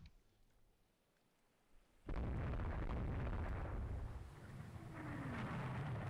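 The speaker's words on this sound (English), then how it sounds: "More missiles fired." Missile fire and explosions in the naval strategy game Rule the Waves 3: quiet low rumble, then a sudden loud burst that sustains as a heavy, roaring blast.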